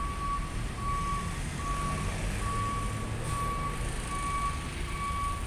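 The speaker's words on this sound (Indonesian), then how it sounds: "Mobil truk yang akan menyeberang ya." Truck reversing beeps sound at a steady rhythm at the Merak ferry port at night, a thin repeating tone over a constant low rumble of idling vehicles, with no talk.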